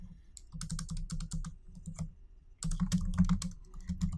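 Computer keyboard typing at close range, with quick bursts of clicky keystrokes, a brief pause, then a denser, louder flurry of keys. No voices are heard.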